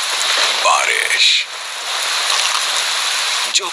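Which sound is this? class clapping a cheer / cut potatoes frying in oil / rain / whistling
rain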